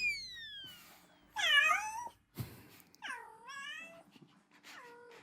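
Men imitate a cat with a series of drawn-out, wavering meows, four or five in a row with short gaps, some rising and falling in pitch like a yowl, voiced close and fairly loud over a quiet room.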